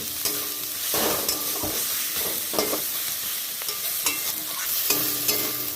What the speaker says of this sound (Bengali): এবার আদা রসুনের পেস্টটা আমি অ্যাড করে দিলাম এটা খুব ভালো করে ভেজে নিতে হবে